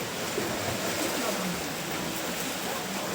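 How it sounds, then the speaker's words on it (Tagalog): Water from a wave pool overflows during an earthquake, producing a steady, broad rushing wash like surf or a stream, heard continuously and fairly loud with no distinct breaks. "umaapaw ang tubig guys"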